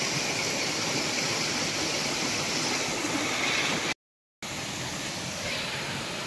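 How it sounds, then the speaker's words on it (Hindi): A waterfall near Chuna Khan lake in Ramnagar, Uttarakhand, pours down into a deep drop, giving a loud, steady, close rushing roar that cuts out briefly partway through. "आप देखो कितना पानी नीचे जा रहा है, कितनी स्पीड से और बहुत गहराई है।"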